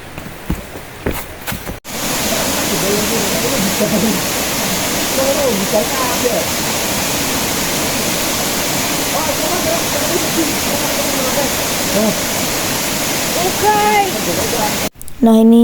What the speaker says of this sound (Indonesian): Nah ini juga ada sungai di Gunung Ungaran Via Mawar. Sungai ini cukup banyak airnya